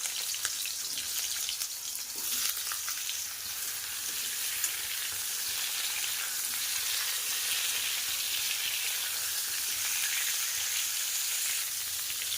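Mango pieces frying in mustard oil in a kadai, a dense even crackling sizzle close by with occasional stirring scrapes, steady throughout.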